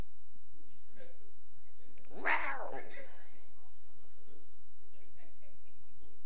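A voice imitates a cat with a single drawn-out meow in the middle of a church sermon, set against a quiet room.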